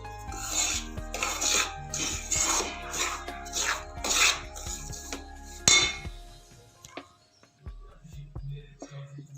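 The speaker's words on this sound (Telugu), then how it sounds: "ఈ మక్క పిండిని కాసేపు దూరగా అయ్యేంత వరకు నెయ్యిలో వేయించుకుందాము." Corn flour being roasted in ghee in a pan for laddu, with a spatula scraping and stirring in a steady series of raspy strokes up close, then quieter settling sizzle.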